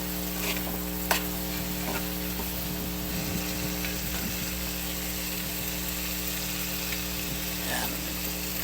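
Tomatoes frying in a pan, a constant soft sizzle with occasional stirring scrapes and clinks, close up, over a steady hum.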